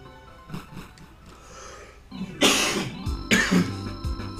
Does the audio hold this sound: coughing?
yes